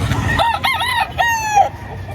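A rooster crows loudly nearby, a single drawn-out call in several rising and falling bursts, at a chicken market in Padre Garcia, Batangas.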